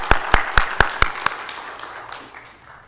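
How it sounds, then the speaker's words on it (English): Applause at a stem cell awards dinner: a handful of crisp, evenly spaced claps ring out close by, then trail off into a fading patter. "Let's give her a round of applause."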